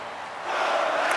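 Arena crowd in NHL 25 roaring at a Montreal Canadiens versus Columbus Blue Jackets playoff hockey game, a dense sustained wash of cheering that swells louder midway through and holds steady.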